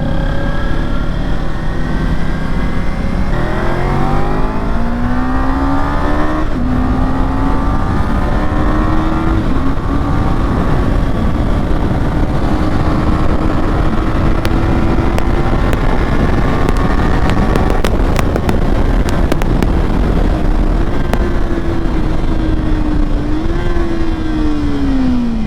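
Kawasaki Ninja 300 motorcycle engine revving hard while riding, its pitch climbing through the gears in rising sweeps with brief dips at shifts, loud and close over steady wind rush.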